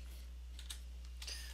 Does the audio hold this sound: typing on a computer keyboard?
yes